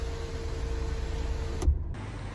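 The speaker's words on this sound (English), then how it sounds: "This front one, however, you can open as a proper sliding sunroof, as you can see." A steady electric motor whirs as a MINI Hatchback's front sunroof panel slides open, ending with a soft thunk as it stops.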